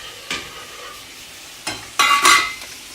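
Bubbling and hissing from a pot of lobster boiling hard on the stove, with a few louder sizzling bursts rising over a steady background simmer.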